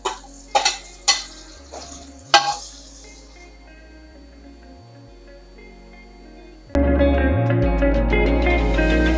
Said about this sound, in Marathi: त्यानंतर यामध्ये टमाटर टाकूया।